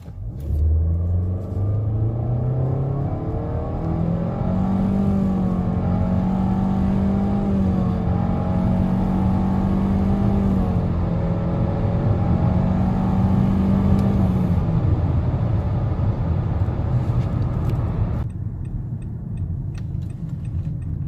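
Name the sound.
Nissan Altima 2.5 SV full throttle acceleration in drive mode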